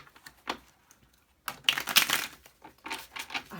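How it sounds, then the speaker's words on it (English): A deck of tarot cards being shuffled by hand: a brief riffle near the start, a pause, then a longer run of dense papery flutters and snaps, fairly close and moderately loud with no talking. "Let's get one more good shuffle in here."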